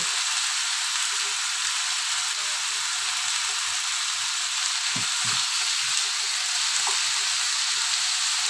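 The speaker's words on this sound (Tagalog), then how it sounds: "Pasangkot natin ng saglit." Chicken sautés in a hot pan with a steady, loud, broadband sizzle throughout, with a few faint clinks of stirring near the end.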